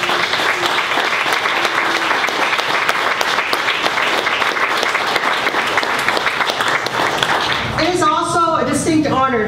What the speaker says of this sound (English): So let's give a big round of applause for Local 1196.